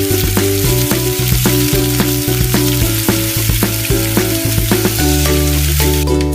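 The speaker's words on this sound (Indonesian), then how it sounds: "Tahu dan tempe yang sudah digoreng ditumis bersama dengan kami." Fried tofu and tempeh stir-fried together in a pan for a balado dish, a steady loud sizzle with a rhythmic clack of the spatula stirring throughout, no talking.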